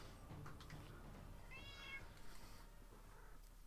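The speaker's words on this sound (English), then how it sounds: "this is Milkshake the cat" A single drawn-out meow from a big, loud male cat rises briefly in the middle, fairly faint against a low background hum.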